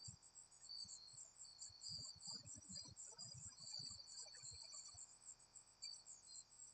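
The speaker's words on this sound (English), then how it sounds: "You can hear the relaxing cricket sounds again." Crickets trill in a continuous high pulsing chorus outdoors at night, soft and steady throughout, with faint low thumps and rustles underneath.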